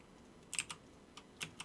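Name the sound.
computer keyboard keys clicking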